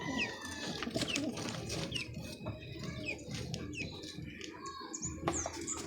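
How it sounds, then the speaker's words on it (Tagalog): Pigeons feeding in a loft give soft cooing and scattered chirps over a busy background of rustling and pecking, close and fairly quiet, continuous through the whole stretch. "Nagsisikain na ang ating mga kalapatids guys"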